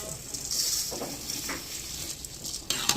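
Glutinous rice goes into a pot for chicken arroz caldo and is stirred, making a close, steady sizzle and scraping, with a couple of brief louder clinks near the end.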